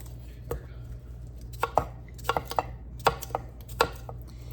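Food is being chopped into chunks with a knife on a cutting board, a run of crisp, close knocks in an irregular rhythm over a low steady hum.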